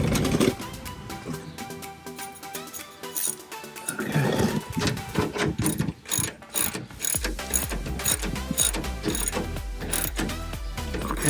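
A hand tool tightens a bolt on a plastic front spoiler on a 1967 Camaro, giving close, repeated ratcheting clicks in uneven bursts with brief pauses and rattling metal handling.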